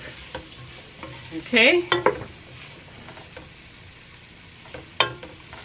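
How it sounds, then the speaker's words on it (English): A spoon stirs spices, paprika, cayenne and vegetables in a pot of black bean and chickpea soup, with soft scraping, a couple of sharp clinks and a brief spoken word. "now I'm just stirring to blend all these spices and, you know, vegetables together"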